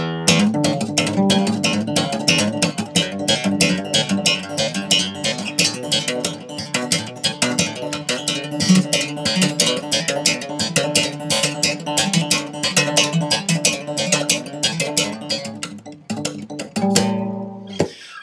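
Punchy slap bass with right-hand slapping and plucking and left-hand hammer-ons, rapid percussive thumps and pops, a busy rhythmic groove played solo, with a brief change near the end.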